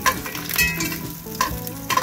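Onion for shrimp sinigang sizzles in a pot with stirring, a steady hiss of frying punctuated by several scraping clinks, close and moderately loud with no talk.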